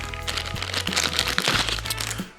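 A packet of insect sting relief pads from a Life Gear first aid kit is opened by hand, giving close crinkling and crackling of plastic wrapping in quick bursts.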